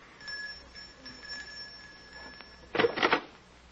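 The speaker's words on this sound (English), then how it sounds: "Just ring the bell." A door bell rings in a short burst of bright metallic trills near the end, after a quiet stretch with a faint steady tone in a period drama setting.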